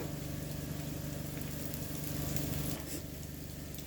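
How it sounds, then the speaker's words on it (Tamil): Onions sautéing in a pan for carrot rice, a soft, steady sizzle heard close and fairly quiet, with a slight shift in texture near the end as they are stirred. "வெங்காயம் நல்லா வதங்கிடுச்சு."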